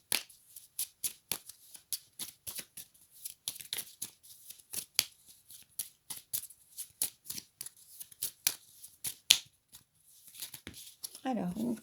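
Oracle cards are shuffled by hand in quick, crisp riffling bursts, repeated at an uneven rhythm close up and clear against a quiet room, ending with a brief rustle as one card drops out.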